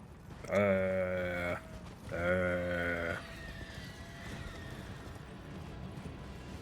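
Two long, wavering sheep bleats in the video game Elden Ring, one after another, loud and close, followed by quieter background ambience.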